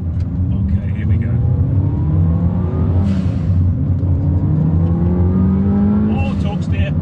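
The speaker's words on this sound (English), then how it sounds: "But that turbo, oh man, it sounds awesome." 400bhp R56 Mini turbo car accelerating hard, its engine note climbing steadily through the gears in a loud, close cabin rumble, with a voice speaking over it.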